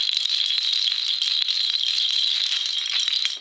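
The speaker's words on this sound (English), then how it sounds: "here's the sound of this concussion instrument" A seed pod rattle, strung dried pods clattering against each other, gives a dense continuous bright rattling shake, close and steady for a few seconds.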